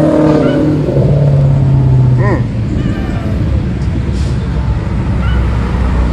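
A Maserati accelerates away from a Charlotte Cars and Coffee meet, its engine note rising loud and close over crowd noise and traffic before easing off.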